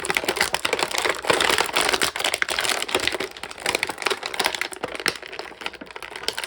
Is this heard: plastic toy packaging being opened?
yes